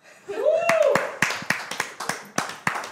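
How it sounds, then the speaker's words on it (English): An audience claps in a loose, uneven rhythm during a GO Pro Wrestling talk segment, a dozen or so sharp separate claps following a sung or drawn-out vocal note at the start. "clap, you guys."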